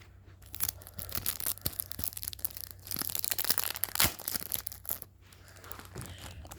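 A foil pack of football trading cards is torn open by hand, with close crinkling, ripping and crunching in irregular bursts and one sharp tear near the middle, no talking.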